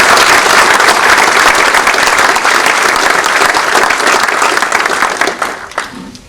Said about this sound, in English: So how about a round of applause for this amazing family?